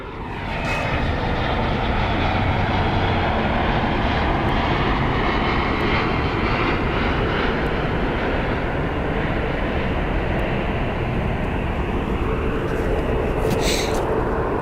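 A loud airliner's jet engines roar at Phoenix Sky Harbor airport in a broad, continuous rumble that holds steady for the whole stretch, close and overwhelming.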